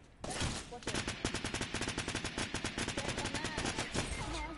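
Rapid gunfire in a shooter video game, a fast run of sharp, evenly spaced shots that keeps going almost the whole time, loud and close, with a short burst of noise at the start.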